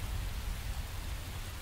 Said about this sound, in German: Saurer Regen.